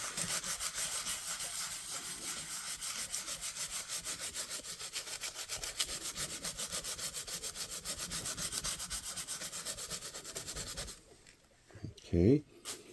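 Sheet-like 180 grit sandpaper rubs back and forth in a fast, steady scratchy rhythm for about eleven seconds, then stops, followed by a brief scrape and a soft handling noise.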